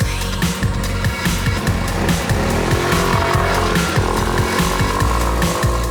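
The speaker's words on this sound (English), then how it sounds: "Out for a lap on the Suzuki." A Suzuki AN125HK scooter rides a lap on a race track, its small engine buzzing loud and close with rising and falling revs through gear and throttle changes, steady throughout with no talking.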